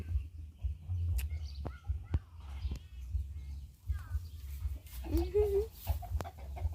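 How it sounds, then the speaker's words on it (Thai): Chickens cluck softly nearby over a low engine-like hum, with a few sharp clicks and a brief rising squawk; a voice speaks quietly at times. "ไก่ไก่มันพี่น้อง"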